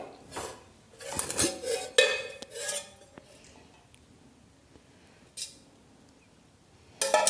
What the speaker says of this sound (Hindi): इन सारी चीज़ों को आटे में मिला लेंगे